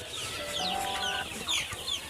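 Hens clucking on a desi poultry farm holding hundreds of laying birds, a dense overlapping chorus of cackles and calls from many fowl at close to middle distance, steady and busy throughout.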